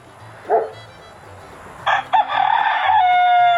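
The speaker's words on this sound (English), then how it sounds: "They're all crowing." A rooster crows loudly nearby on a rooster farm after a few short clucks, with another bird calling faintly in the background.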